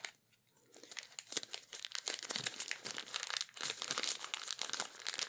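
A plastic bag is crinkled close up, a soft, dense stream of crackling and rustling that starts after a brief quiet moment and continues unevenly, with no talking.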